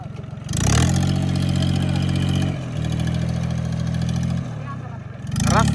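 A tractor that has slid off the road and become stuck revs its engine hard, a loud, steady diesel drone that dips and surges in stages, with clattering and a voice or two over it.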